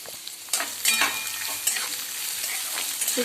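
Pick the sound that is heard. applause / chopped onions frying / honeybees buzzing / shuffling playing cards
chopped onions frying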